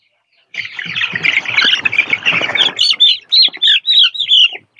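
Young layer chicks about 25 days old peep and chirp loudly at close range, first a dense overlapping chorus from many birds, then a run of separate high calls.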